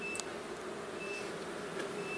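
Honeybees buzzing at an apiary after being shaken off hive frames, a steady continuous drone of many bees nearby, fairly quiet with a few faint high tones.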